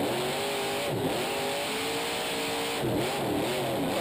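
Grave Digger monster truck engine revs hard during a Monster Jam freestyle run, a loud, continuous roar with rising and falling pitch sweeps and crowd noise beneath.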